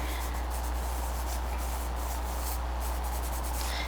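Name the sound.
blending charcoal on paper with finger or cloth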